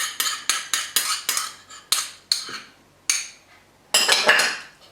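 Chili garlic sauce and dark soy sauce being stirred together in a large bowl, with a run of sharp spoon-on-bowl clinks and scrapes that come in quick bursts, pause, then return as a louder rattling flurry.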